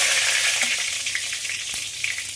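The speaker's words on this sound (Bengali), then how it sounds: "দুটো তেজপাতা দিলাম" Two bay leaves sizzle in hot oil in a pan used for frying potatoes for aloo kosha, giving a steady, close, loud hiss with faint crackles throughout and no talking.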